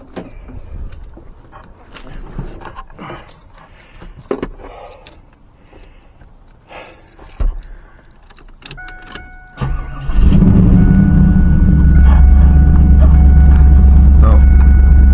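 A 1997 Chevrolet Camaro SS V8 cranks and fires around the ten-second mark, then settles into a loud, steady idle rumble with a whining tone, following quieter clicks, key and interior handling noises.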